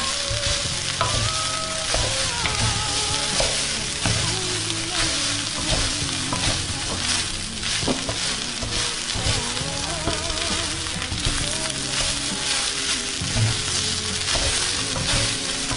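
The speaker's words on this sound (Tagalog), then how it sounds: "So, haluin ko lang na mabuti at hanggang sa paghain." Crab meat fried rice stirred in a hot pan, continuous loud sizzling and frying with scraping stirs throughout, close up.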